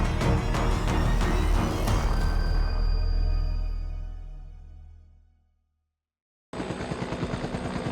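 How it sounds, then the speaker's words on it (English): A helicopter's loud rotor drone beats steadily, then fades away to silence before a rhythmic chopping returns abruptly near the end. "A helicopter hovers overhead, its rotor blades beating steadily."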